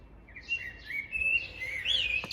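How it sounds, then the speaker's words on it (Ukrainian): A bird sings outdoors with bright, high chirps and warbling trills that run almost continuously over a soft background hiss, rising to a sharper whistled phrase near the end. "якась пташка така співає, цікава"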